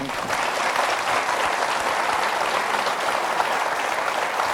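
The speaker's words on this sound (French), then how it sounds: "Le public vous applaudit." A game show studio audience applauds: dense, sustained clapping from many hands at an even, full level the whole way through, with no voices on top.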